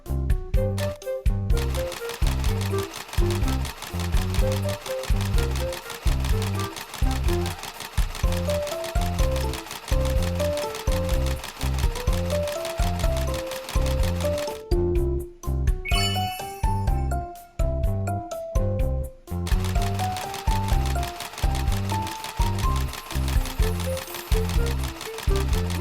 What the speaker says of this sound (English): Let's sew it together.